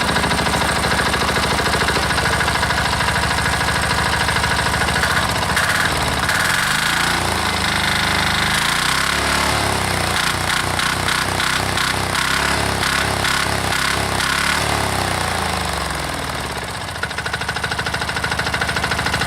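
A single-cylinder diesel engine cold starts and runs loud and close, its heavy rhythmic knocking thud steady, with the beat shifting as the engine settles and a brief dip near the end.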